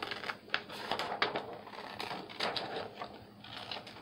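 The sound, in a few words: scissors cutting paper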